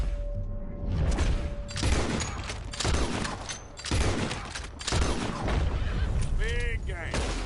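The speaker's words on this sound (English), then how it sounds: "What are you shooting at?" Repeated gunfire rings out in Red Dead Redemption 2, several loud bursts of shots at uneven intervals with rumbling tails, mixed with game noise and a voice near the end.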